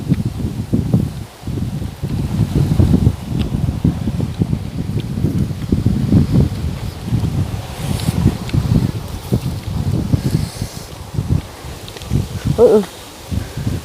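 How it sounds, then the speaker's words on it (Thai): Strong wind gusts through leafy vegetation outdoors during a shrimp-catching outing, a steady loud rustling roar with dense low buffeting across the whole stretch and a brief chirp near the end. "ลมแรงมากอ่ะเออ"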